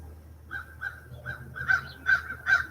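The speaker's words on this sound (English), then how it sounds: "I don't know if that showed that crow on the power line" A crow caws repeatedly from a residential street, giving a run of about seven harsh, evenly spaced calls that grow louder toward the end, heard alone over a low background rumble.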